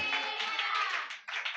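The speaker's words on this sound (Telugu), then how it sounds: "చప్పట్లు కొట్టండి గట్టి" An audience at a church sermon claps loudly and steadily in a dense, continuous burst that briefly dips before resuming; no speech is heard over it.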